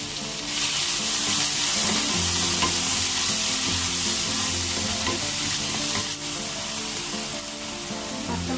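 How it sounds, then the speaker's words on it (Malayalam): Ginger, garlic and shallot paste frying in hot oil for a quail roast, giving a steady, close, continuous sizzle with stirring throughout. "അതേ എണ്ണയിലേക്ക് തന്നെ ഇത് ചതച്ച് വെച്ചിരിക്കുന്ന ഇഞ്ചി വെളുത്തുള്ളി ചുവന്നുള്ളി പേസ്റ്റ് ഇട്ട് കൊടുക്കാം."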